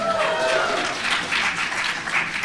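Convention audience at the Calgary Expo cheering and applauding together in a large hall, a broad sustained wash of claps and shouts at steady loudness throughout, no single voice standing out.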